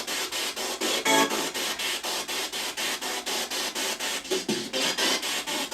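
A spirit box radio sweeps its stations, giving a rapid, pulsing chop of harsh hiss and broken radio fragments that repeats several times a second, fairly loud and steady throughout.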